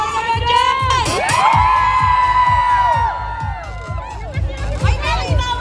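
A festival crowd at an Independence Day fest in Hong Kong shouts and cheers loudly, with high whoops and screams over rhythmic thumping and continuous babble.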